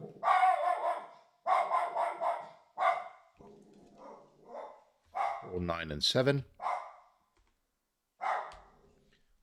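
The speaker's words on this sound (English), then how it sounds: "that's my dog probably hearing somebody outside just walking past the door" A dog barks repeatedly in short bursts nearby, with a person speaking in between and over the barking.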